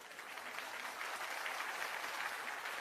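A distant crowd claps steadily through the whole stretch at a political speech on Bihar development, forming a faint, even wash of applause with no voice on top.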